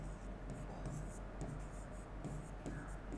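Pen scratching out a handwritten accounts entry in a ledger during a Class 12 partnership final accounts lesson, with soft, continuous close-up strokes that carry on steadily throughout.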